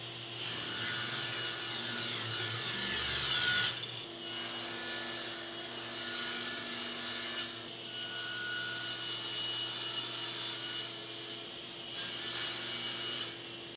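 A saw rips a book-matched cherry wood panel, just over a quarter inch thick, to width. The cutting noise is steady and continuous with a few short dips, and no one speaks.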